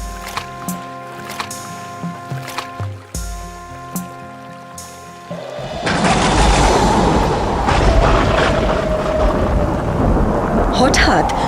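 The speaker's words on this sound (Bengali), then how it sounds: "হঠাৎ নদীতে প্রচন্ড ঝড় ওঠে" A cartoon thunderstorm breaks over a river: after a few seconds of plinking music, a loud burst of thunder gives way to steady heavy rain and rumbling that fills the rest of the scene.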